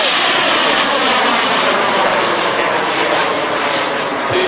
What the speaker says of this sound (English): It is a classic jet, doesn't get any more classic than this